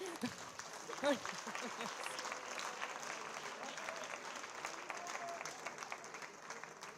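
Steady applause from an audience fills the room, with a voice speaking briefly near the start.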